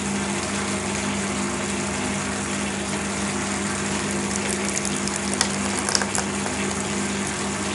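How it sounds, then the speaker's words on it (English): Vodka flows steadily from an opened valve into a carbon filter, a continuous gushing, pump-like wash of liquid heard up close with no speech. "So we allow some spirit to enter the filter."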